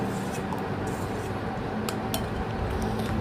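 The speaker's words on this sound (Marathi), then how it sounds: "आपण त्यामध्ये हे थंड कस्टर्ड टाकू आणि चमच्याने छान मिक्स करून घेऊ" A spoon stirring cold custard with banana, pomegranate seeds, apple and grapes in a bowl, with soft wet squelching and a few light clinks against the dish over a steady background hum.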